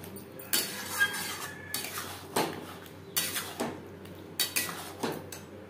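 Fried potatoes and pointed gourd are tossed with spices in a pan, with repeated metal spatula scrapes and knocks coming in uneven bursts over a soft low sizzle, close by, and no one speaking.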